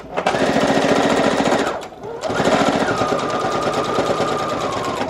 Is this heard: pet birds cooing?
no